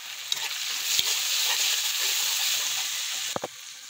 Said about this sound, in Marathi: हलका टमाटर शिजू देऊ